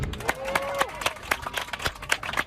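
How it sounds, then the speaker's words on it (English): Airplane passengers clap and cheer inside the cabin of a Boeing 717 after a gearless emergency landing, a scattered crowd of claps rising and falling with voices mixed in. "Passengers erupting in applause."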